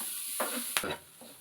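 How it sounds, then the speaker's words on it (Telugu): Green chillies, curry leaves and grated carrot frying in a pan, a soft steady sizzle broken by a few sharp spatula scrapes and stirs, close and quiet. "పచ్చిమిరపకాయలు వేసి కరివేపాకు కూడా వేసి బాగా యాగనివ్వాలి"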